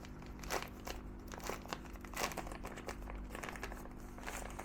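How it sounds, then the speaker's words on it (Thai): Plastic bag crinkling and tearing open while unboxing a DJI Osmo Pocket 3, a steady run of close, dense crackles and rustles with a few sharper rips across the stretch. "พลาสติกฉีกถุง"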